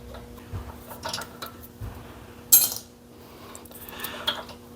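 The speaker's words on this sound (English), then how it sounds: "Carefully slide this carburetor back on and hook up our throttle linkage." A carburetor slid back onto a snowblower engine and its throttle linkage hooked up, giving a few light metallic clinks and taps, one sharper clank midway, quiet and close with no voices.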